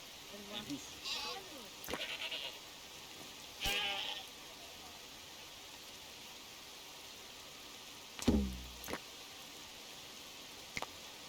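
Diseased sheep in the survival game Dawn of Man bleat in short, separate calls spread across the stretch, over a low hiss and occasional sharp game sounds.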